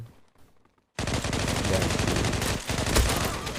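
Gunfire in the online shooter Zula on the Disko map: after a second of near silence, dense rapid automatic bursts start abruptly and keep going loud and close, with brief pauses and a single sharper shot near the end.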